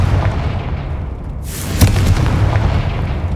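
Confringo spell explosion in the Hogwarts Legacy video game: a sharp whoosh rises into a single loud boom partway through, with the blast rumbling on over constant background game noise.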